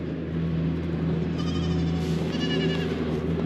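Boer goats bleat repeatedly from a pen, several calls overlapping against a steady low farmyard hum, fairly close and clear with no talking.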